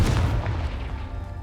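A Confringo fire spell in the Hogwarts Legacy video game bursts with a deep, booming blast that fills the brief moment and fades quickly, with no voice over it.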